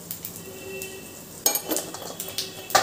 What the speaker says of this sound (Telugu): ఆవాలు వేస్తున్నాను, కొద్దిగా జీలకర్ర, కొద్దిగా మెంతుల పొడి అండి, ఇంగువ, పసుపు కూడా వేస్తాను